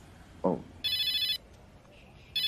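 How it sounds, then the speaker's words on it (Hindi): Telephone ringing in two bright, electronic bursts with a pause between them, fairly close and clear. A short vocal sound comes just before the first ring. "बेगम का फोन आ गया।"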